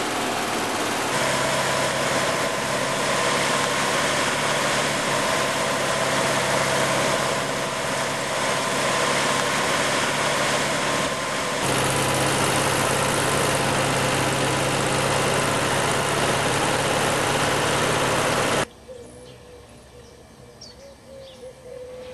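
A 1967 VW Squareback air-cooled engine runs steadily on a test stand, a loud, even buzzing drone that cuts off abruptly near the end, leaving quiet background.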